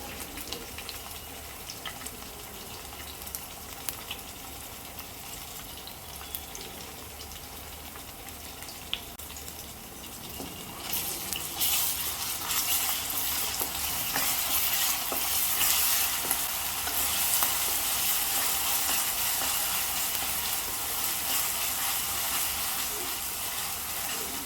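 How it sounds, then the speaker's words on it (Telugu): Ginger-garlic paste frying with softened onions in a pan, a steady close sizzle that swells louder partway through as the paste goes in, with scraping stirring strokes and no talk. "ఇప్పుడు ఇదే టైంలోన ఈ పేస్ట్ వేసుకుంటున్నాను."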